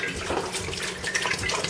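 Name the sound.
gallon of water being poured into a pot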